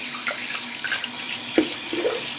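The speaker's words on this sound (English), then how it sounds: "Just put that in some hot water there and fill this back up real quick" Hot water running from a tap into a bathroom sink after shaving, a steady soft splashing flow with a few brief louder plinks, close by and alone.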